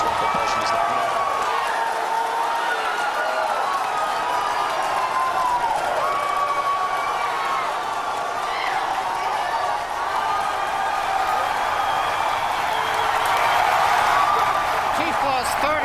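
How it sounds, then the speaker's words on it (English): A large crowd cheers, whoops and applauds continuously at the Falcon Heavy rocket test flight launch, loud and sustained, with a commentator's voice running underneath. "if you can hear me over the cheering"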